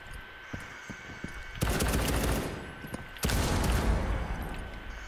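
Automatic gunfire in Rainbow Six Siege, two loud sustained bursts of rapid fire, each lasting over a second, separated by a quieter stretch with a few isolated shots.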